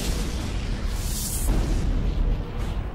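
A supernova explosion sound effect, rendered as a deep, sustained rumbling roar with a broad hissing wash that swells midway and stays loud throughout.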